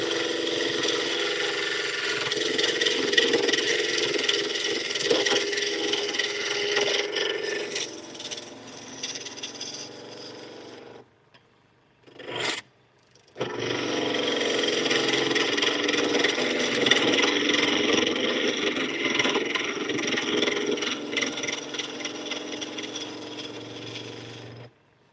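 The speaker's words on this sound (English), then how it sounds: "See how shiny that the skew gets it when you ride the bevel?" A skew chisel rides the bevel along spinning wood on a lathe, giving a steady, loud scraping hiss that stops briefly near the middle with a short burst, then resumes evenly close by.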